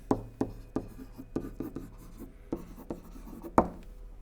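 Pen or stylus strokes writing a chemistry equation on a screen, a series of short scratchy taps and drags at an irregular pace, close and fairly quiet with no voice.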